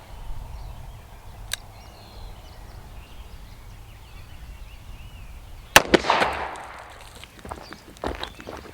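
.38 snub nose revolver fires one Federal Punch 120 grain jacketed hollow point +P round outdoors, a single sharp, loud report midway through after quiet background, followed by brief rustling and shuffling.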